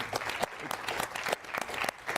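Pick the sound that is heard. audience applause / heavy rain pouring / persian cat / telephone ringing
audience applause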